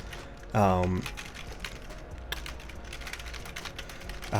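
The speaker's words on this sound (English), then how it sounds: "you guys can hear me typing in the background" Typing on a computer keyboard produces a steady run of quick, close clicks and key taps, with a short tonal burst near the start and another at the very end.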